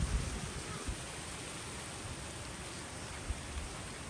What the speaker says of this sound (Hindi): बारिश की आवाज़ सुनने कितनी खूबसूरत है